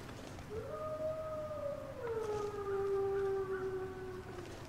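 Wolves in the video game The Long Dark let out a long, faint, distant howl that rises and then slowly falls, with a second voice joining partway through over a low windy hum.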